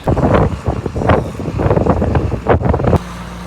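Brisk, breezy wind outdoors buffeting the microphone in loud gusty rumbles that surge and dip for a few seconds before dropping off to a quieter low hum.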